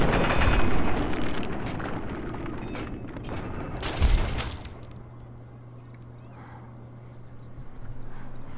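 Gunfire in Fallout 3 at night: a sharp, loud blast lands around the middle, followed by a thin, steady background tone with faint periodic high beeps, over earlier rumbling game noise.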